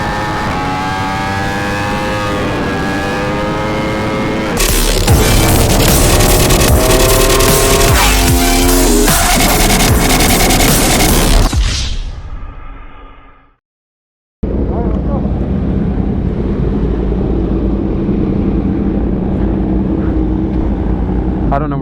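Superbike engines roar loudly while riding out to a car meet, with strong wind rush and rising revs, a brief drop to silence, then steady engine and wind noise again.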